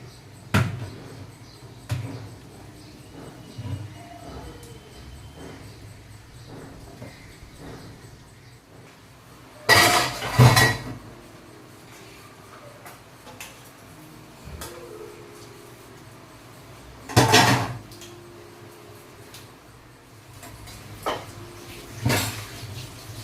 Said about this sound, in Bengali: দুটা বাসন ছিল তো সেগুলো ধুয়ে টুয়ে নিলাম